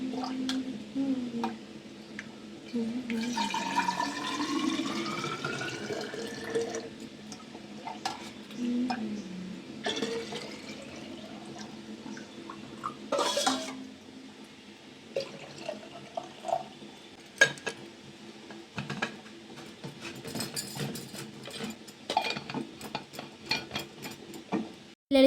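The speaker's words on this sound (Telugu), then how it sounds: "నేను పిల్లల వాటర్ బాటిల్స్ అయితే క్లీన్ చేసుకొని వాటర్‌ని అయితే నింపుకుంటున్నాను" Children's water bottles being washed and filled with water at home, with clattering, stirring and pouring sounds in irregular bursts, fairly close and moderately quiet, and no talking.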